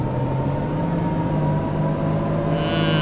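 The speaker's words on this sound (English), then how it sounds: "That red line revving sounds amazing." A MAN A22 bus engine in the OMSI simulator holds a loud, steady high-rev drone with a thin whining tone sweeping slowly above it, continuous for about three seconds without speech.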